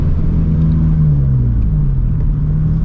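Turbocharged built FA20 engine in a Toyota FR-S at 17 psi boost, a steady deep rumble with a gliding tone as it shifts through the gears, heard from inside the car, close and continuous.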